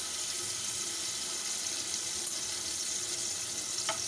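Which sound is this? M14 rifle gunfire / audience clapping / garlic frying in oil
garlic frying in oil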